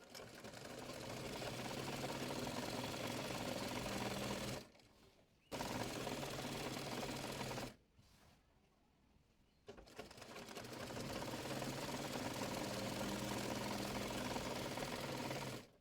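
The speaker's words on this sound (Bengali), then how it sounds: "প্রথমে প্লাজো সালোয়ারটির হাই সেলাই করে নেব।" A sewing machine stitches palazzo pants with loud, steady, rapid whirring runs, broken by two brief stops, then resuming; no talking over it.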